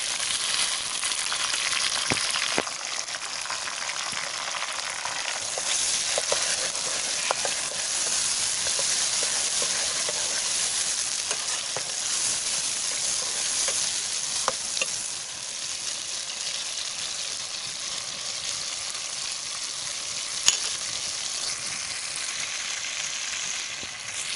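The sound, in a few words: chopped tomatoes frying with golden brown onions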